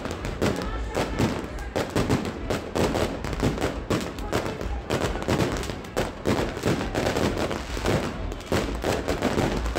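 Midnight New Year's fireworks over Pitești come as a dense, continuous barrage of loud bangs and crackling bursts, with voices faintly audible among the explosions.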